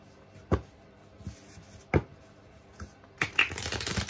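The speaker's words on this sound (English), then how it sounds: "tell you how the cards shuffle" Quiet thumps and soft shuffling of a wax-coated Everyday Witch tarot deck, two sharp taps followed by a longer rapid riffle toward the end.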